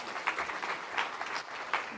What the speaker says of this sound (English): Can we give a big round of applause for Claudine?